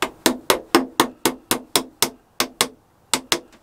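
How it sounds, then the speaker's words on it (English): A hammer taps sharply during installation of the wings on a Nexa Tiger Moth model aircraft, about a dozen crisp, close strikes in a steady rhythm with a brief pause before the final few. "So let's get my little hammer."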